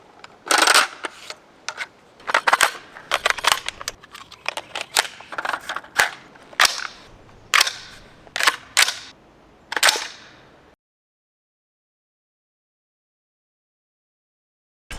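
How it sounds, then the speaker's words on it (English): A Springfield Armory SA16A2 semi-automatic rifle fires a string of roughly a dozen sharp shots at an uneven pace, loud and close, then the shooting stops and the scene falls silent. "First shots with the new Springfield Armory SA16."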